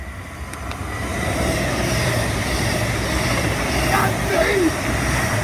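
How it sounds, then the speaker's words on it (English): A diesel country train passes Hinton Admiral station with a loud, steady rumble that swells slightly and holds throughout, while a voice briefly speaks nearby. "And then this is a country train."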